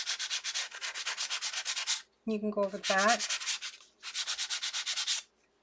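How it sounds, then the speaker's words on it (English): Sanding block with medium 120 grit rubbed over die-cut paper to clean up a crochet border cut: three bursts of steady, rhythmic scratchy strokes, with a short spoken remark in between. "sanding block. This is medium 120."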